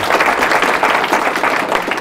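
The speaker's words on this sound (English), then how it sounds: "it's always dangerous when you applaud before a presentation" A crowd of listeners at a university chemistry lecture claps steadily and fairly loudly for a short moment before the talk begins.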